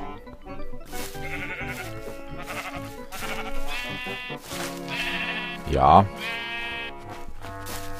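Sheep bleat in Minecraft, several short game bleats scattered among background music, with a voice saying a single word partway through.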